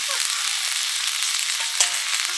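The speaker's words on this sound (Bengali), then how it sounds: "একটু জল দিয়ে মশলাটা কষিয়ে নিচ্ছে" Spice paste fries in a pan with a splash of water, a steady bright sizzle with a soft stirring scrape partway through.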